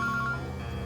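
A telephone emits a short series of clear, evenly spaced dialing beeps as a call is placed, continuing over a steady low hum.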